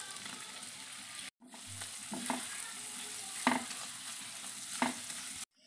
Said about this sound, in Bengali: মশলাটা খুব ভালো করে ভাজা হয়ে গেছে।